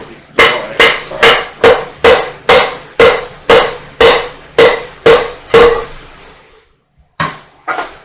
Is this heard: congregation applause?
no